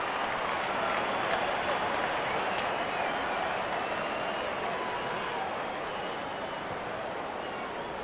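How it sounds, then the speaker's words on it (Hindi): Spectators at a cricket ODI between India and Australia applaud a batter's fifty, a steady wash of dense clapping from a large crowd that carries evenly and slowly eases off. "दर्शक इस 50 रन को अपने तालियों से सराहते हुए"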